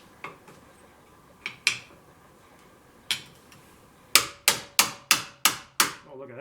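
A part being pried and tapped out on a Honda 250 Big Red ATV: scattered metallic knocks at first, then a rapid run of six sharp, ringing strikes, close and loud.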